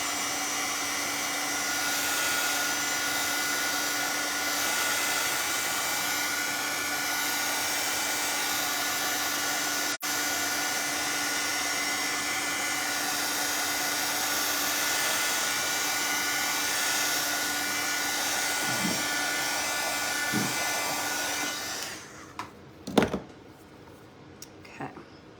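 A hair dryer blowing on wet paint indoors: a loud, continuous whirring roar with a steady motor whine for about twenty seconds, then it switches off, leaving a few clunks and handling noises.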